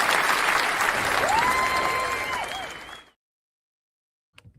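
Applause from a crowd with some whistles, lasting about three seconds before cutting off to silence, then a brief faint noise.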